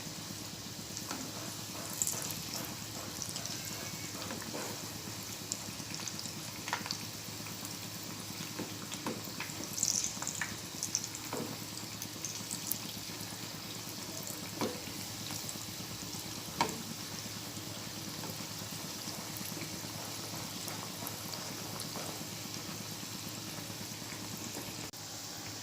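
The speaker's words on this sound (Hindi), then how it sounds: "इसलिए इसे धीमी आंच पर तलना चाहिए" Moong dal kebabs fry in oil on a low flame, a faint steady bubbling sizzle with occasional light clicks and taps, quiet and unbroken, with no talk.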